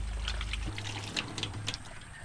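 Water trickles steadily from a homemade foot-operated bamboo faucet on a farm, a soft, close, continuous dribble with a low hum at the start.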